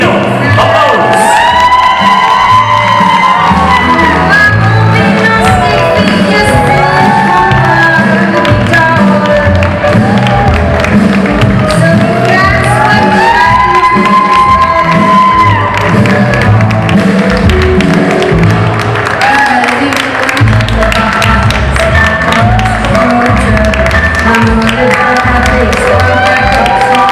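A stage audience at a youth skills-competition hairstyling show claps, cheers and whoops steadily and loudly throughout, with a dense crowd roar and scattered shouts filling the whole stretch.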